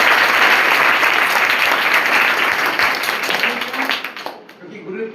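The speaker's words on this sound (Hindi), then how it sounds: "एक बार हमारे गुरुजन के लिए ताली बजनी चाहिए" Vigorous applause for the teachers from a school gathering at a primary school, a loud continuous wash of clapping that thins and fades near the end as a voice begins.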